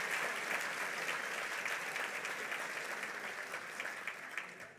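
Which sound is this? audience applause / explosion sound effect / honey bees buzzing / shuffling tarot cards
audience applause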